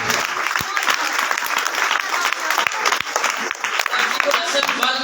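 Dense, sustained applause fills a hall at a school's annual prize ceremony as a student is honored, a full crowd clapping steadily throughout, with a voice speaking over it.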